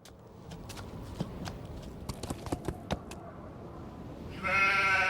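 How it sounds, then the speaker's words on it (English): A sheep bleats in the Nancy Drew game The Haunting of Castle Malloy, a loud wavering call near the end after a series of sharp clicks and taps in a quiet setting. "It's a sheep!"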